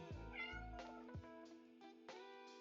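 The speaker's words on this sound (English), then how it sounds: "That's my cat meowing." A house cat meows repeatedly, several drawn-out, fairly close calls in a row, with no other sounds around it.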